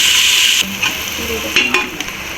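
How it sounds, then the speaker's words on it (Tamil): Onions fry in ghee and oil for vegetable biryani, a steady close, loud sizzle with a few scrapes of stirring. "நெய் பத்தலைன்னா கொஞ்சம் ஆயில் கூட எக்ஸ்ட்ரா ஆட் பண்ணி நல்லா வதக்கிக்கோங்க வெங்காயம் நல்லா ஃப்ரை ஆகணும்"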